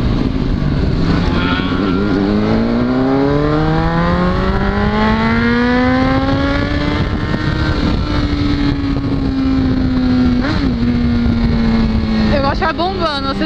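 A Yamaha XJ6 motorcycle engine rises and falls in pitch as the throttle is pumped on the move, steady and close with heavy wind noise throughout.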